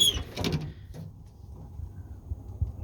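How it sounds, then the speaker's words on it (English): The door of an old 1950s GMC dump truck is opened with a short metallic clunk and rattle, followed by quiet outdoor background. "Let me see if the door's open."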